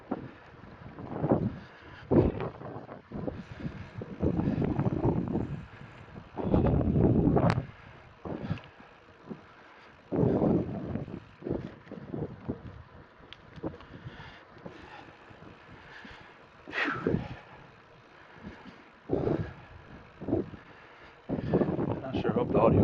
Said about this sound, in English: I think I found the opposite direction of the wind.